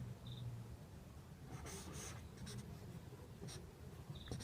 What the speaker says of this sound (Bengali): দেখো প্রথমে লিখব এ।